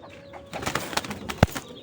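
A racing pigeon held in the hand gives a short soft coo, then flutters its wings in a burst of close, quick flaps with one sharp thump near the end.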